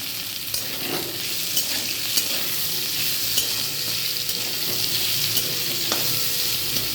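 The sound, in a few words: onion frying in a pan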